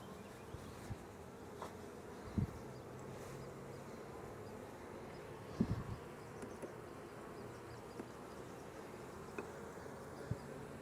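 Honey bees hum in a steady, dense drone around an open hive during an April inspection, with a few soft knocks and clicks from handling frames.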